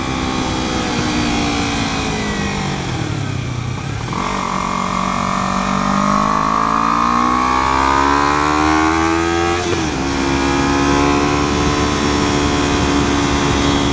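A Kawasaki Ninja 300 motorcycle engine drones loudly and continuously while riding, its pitch dipping, then climbing steadily through the gears with brief drops at shifts, plus wind noise throughout.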